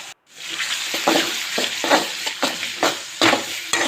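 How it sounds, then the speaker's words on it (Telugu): Chopped onions fry with turmeric in a pan, giving a close, steady sizzle broken by repeated scraping and stirring strokes of a utensil, with no talking. "పసుపు వేసి బాగా ఫ్రై చేయండి ఉల్లిపాయ బాగా వేయగాల"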